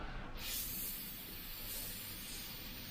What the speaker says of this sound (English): I'll show you what this brush is like when it sprays